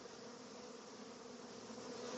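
A swarm of honeybees drones in a steady, dense buzz that holds evenly throughout, close and continuous with no voices.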